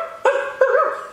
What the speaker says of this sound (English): Oh, that's a little dog.